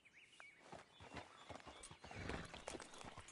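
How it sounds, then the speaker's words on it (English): Horse hooves clop in an uneven walking rhythm, fairly close, with soft snorting and shuffling, all fairly quiet; a Hungarian Half-bred horse in the video game Red Dead Redemption 2. "That's a pretty horse, right?"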